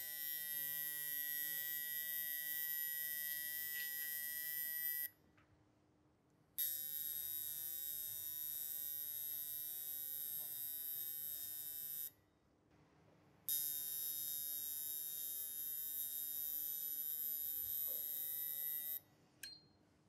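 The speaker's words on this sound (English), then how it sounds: "we need to start applying pressure to the trigger here to start pumping the cleaning fluid through the injector" Common rail injector cleaning machine pumping solvent through a diesel injector, a steady electric buzz and hum that runs in three long stretches, cutting off twice for about a second, with no talk.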